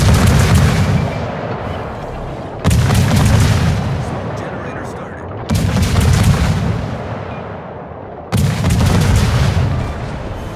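Naval artillery salvos in World of Warships during a tier 10 clan battle: four heavy booming broadsides spaced a few seconds apart, each loud blast fading into a long rumbling tail.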